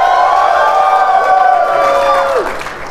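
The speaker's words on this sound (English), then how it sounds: "Can we get a cheer for Umbreon?" Live audience at a PAX East show cheering and whooping loudly in a sustained roar, shrill voices riding on top before the noise tapers off near the end.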